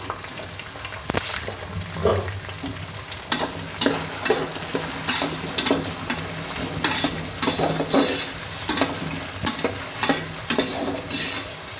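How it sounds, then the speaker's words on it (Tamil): Chopped potato, large carrot and beans being sautéed in a pan for vegetable biryani, with steady loud sizzling and repeated scraping stirs of a spoon against the pan, no voices. "2 நிமிஷம் காயை வதக்கினா மட்டும் போதும்."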